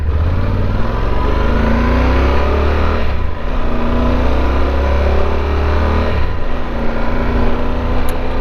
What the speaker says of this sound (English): Man, the bike is just so fast